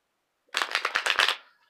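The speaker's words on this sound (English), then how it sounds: "So I'm going to shuffle" Tarot cards are shuffled in one brisk burst of about a second of crisp, rapid riffling, close and clear against silence.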